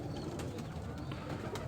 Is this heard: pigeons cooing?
yes